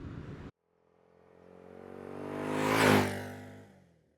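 A BSA Gold Star motorcycle approaches and passes on a summer evening, its single engine note swelling from faint to a loud peak before fading away.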